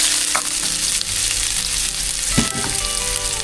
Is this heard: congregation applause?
no